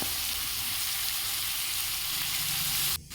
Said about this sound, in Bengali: সেগুলো মশলার সঙ্গে বেশ কিছুক্ষণ কষে নিয়ে তারপরে দিল কুচো করে কেটে রাখা বাঁধাকপিগুলো